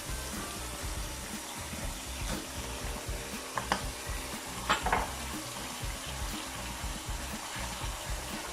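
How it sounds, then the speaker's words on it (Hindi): Beef trotters (paye) are fried and stirred in a pot, producing a continuous loud sizzle and bubbling, with occasional scraping clinks of a spoon against the pot. "हमने पायों को इसके अंदर थोड़ी देर भूनना है,"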